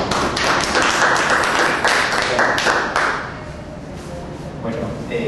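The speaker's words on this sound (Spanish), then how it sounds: "pido un fuerte aplauso para el doctor Roberto Vaca Merino" An audience at a lecture gives a round of applause for the speaker, loud clapping for about three seconds that then thins and fades, with a few scattered claps and faint murmuring toward the end.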